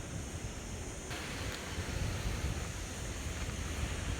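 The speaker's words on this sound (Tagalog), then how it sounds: "Kasi ang lalaki ng alon." Steady roar of big ocean waves crashing on a beach in Mallorca, Spain, with broad rushing noise and some wind buffeting the microphone throughout.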